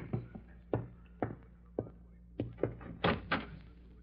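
A door being answered in an old radio drama, heard as a series of separate knocks and thumps with a handle clatter near the end, close and fairly clear with no talking.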